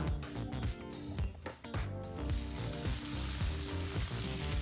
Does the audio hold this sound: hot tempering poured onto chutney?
yes